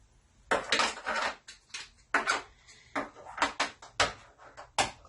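Plastic lids for smoothie containers being grabbed in a kitchen, a quick series of close, sharp clacks and rattles with short pauses between them.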